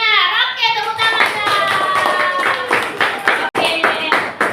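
Children in a classroom clapping hands in applause, a dense run of sharp claps with children's voices mixed in, loud and close.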